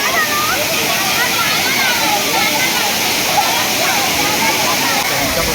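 Nhavankond waterfall at Talawade, Devgad: a steady, loud, broadband roar of falling water with splashing, continuous and close, with faint voices under it.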